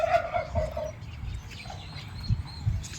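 Turkeys in an aviary at a nature reserve gobble in a loud, warbling burst, followed by quieter clucks and low calls at close range.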